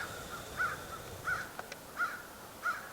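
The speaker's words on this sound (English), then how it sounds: "I don't know if you can hear those crows out there" Crows in trees caw four times at a steady, evenly spaced rhythm, somewhat distant and moderately loud over a faint background hiss, on a snowy outdoor hike.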